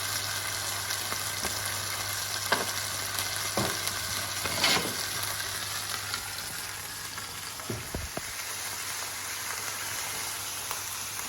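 Pan-fried Plymouth Dover sole sizzles steadily in a hot pan, a close, constant hiss and crackle with a few soft scrapes and taps of a utensil, and no talking over it.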